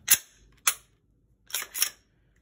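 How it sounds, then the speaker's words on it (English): Dry-fire clicks from a Glock 17 Gen 3 pistol: one sharp click, another about half a second later, then a quick double click after a pause, close and crisp with silence between. "Dry fire."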